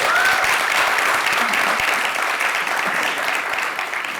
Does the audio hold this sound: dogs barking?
no